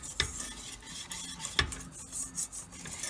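Flour toasting in a pot for tomato soup, a spoon scraping and stirring with soft rasping strokes and two sharper clinks against the metal, faint and close, with no voice.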